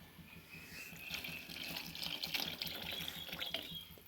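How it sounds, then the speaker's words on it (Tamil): Water pouring steadily into a cooking pot while making dalcha, a lentil and vegetable curry, with a continuous splashing, gurgling stream that swells slightly partway through and carries on to the end. "தண்ணி ஊற்றி வேணுங்கிற அளவுக்கு தண்ணி ஊற்றி"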